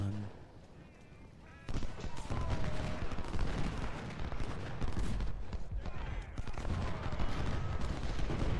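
Siege cannon and massed gunfire in the Ultimate General: Civil War video game, starting quietly and then erupting into a dense, sustained roar of rattling volleys and booms that carries on loudly to the end.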